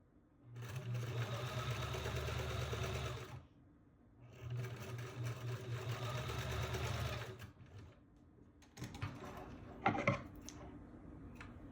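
A home sewing machine stitching a fabric scrunchie, running in two long steady bursts separated by a brief pause, then a few handling clicks and rattles, close and without talk.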